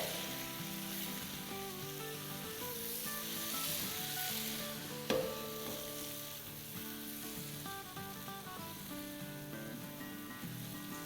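Chicken boti pieces fry in masala over a low flame, giving a steady, even sizzle that is fairly quiet throughout, with a single brief clink partway through.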